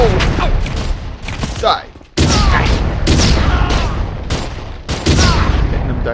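Loud bursts of rapid gunfire and booming explosions in the video game Red Faction come in repeated waves, with a voice briefly shouting amid the chaos.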